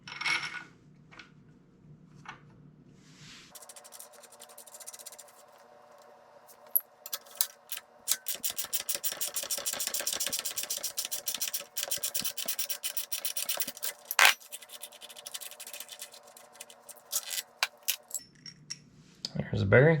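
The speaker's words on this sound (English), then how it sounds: "I'm going to be pushing this bearing out that way." Metallic scraping and clicking as a socket is used to push a bearing out of the shock linkage on a Yamaha YZ250FX or YZ250F dirt bike, close and irregular, with grinding bursts between quieter handling.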